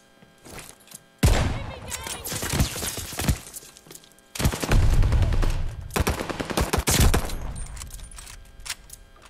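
Video game shotgun blasts ring out close and loud in several separate bursts, separated by quieter stretches of battle noise.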